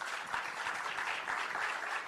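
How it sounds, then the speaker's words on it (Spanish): A Spanish-language panel audience applauds the speakers at the close of a discussion on anti-piracy efforts in Latin America, steady, dense clapping that holds at an even level without voices. "cerrar este panel con un aplauso para todos"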